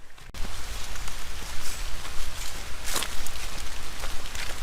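Steady rain patters on the ground and foliage along a nature trail at a nature preserve, a dense close hiss with a few louder drops and faint footsteps.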